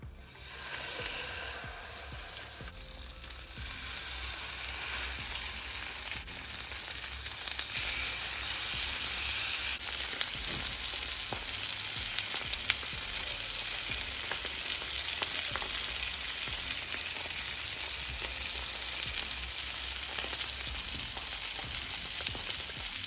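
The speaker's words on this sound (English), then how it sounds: "now to give that a stir, and you're going to be stirring this for like a minute or 2" Honey garlic mixture sizzling in a pot on medium heat while being stirred, a steady, fairly quiet bubbling hiss with faint stirring under a constant low hum, no talk.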